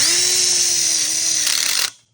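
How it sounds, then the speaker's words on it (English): A self-drilling, self-tapping screw is driven by a power drill into a metal wall tube of an outdoor kitchen frame, a loud, steady high whine for nearly two seconds that stops abruptly, no talking. "now he's gonna take his self-drilling screw, self-tapping,"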